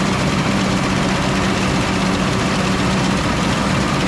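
A 1970s oat harvesting machine's engine runs steadily, a loud, low, droning rumble that stays constant and close throughout with no voices.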